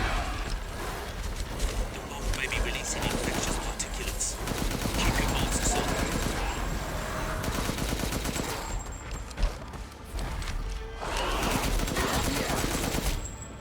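Powerful gunfire in the game Resident Evil Village, a dense, loud, sustained barrage of shots and game noise running throughout, with a few sharper individual reports.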